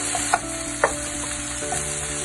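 Chopped onion, about 50 grams, sizzles steadily in a little olive oil in a home kitchen pan, with a few sharper spatula knocks and pops over the continuous frying hiss.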